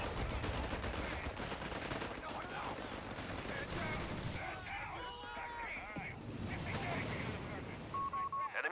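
Gunfire crackles through a Company of Heroes 3 battle, with bursts of rifle and machine-gun shots amid constant battlefield noise and game radio chatter under a talking player.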